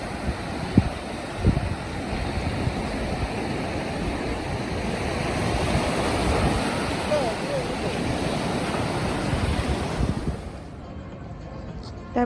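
Sea waves wash steadily onto the beach at Cox's Bazar, a continuous broadband surf roar with wind buffeting the microphone, easing slightly near the end.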